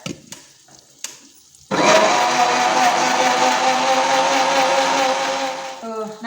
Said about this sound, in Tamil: இப்போ இதை வந்து கிரைண்ட் பண்ணி எடுத்துடுறேன்